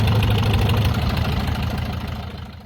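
A diesel boat engine idles with a steady low, knocking chug, close and loud, easing slightly toward the end.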